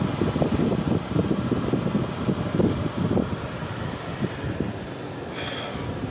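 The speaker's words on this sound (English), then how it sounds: "Hope y'all don't hear that air conditioning." An air conditioning unit running loudly in a room, a steady broadband whoosh with low rumbling flutter, continuous throughout with no talking.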